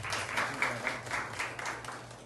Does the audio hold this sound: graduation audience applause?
yes